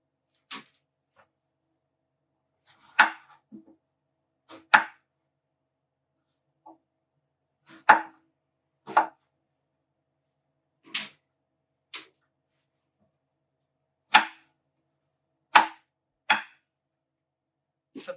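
Knife cubing eggplant and other vegetables into medium-sized pieces on a board for roasting, about a dozen separate sharp chops spaced a second or two apart, close and clear with no talking.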